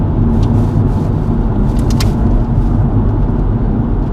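A car accelerating hard through an overtake on a Scottish road, heard as a loud, continuous low engine rumble mixed with road and wind noise, steady throughout with no voices.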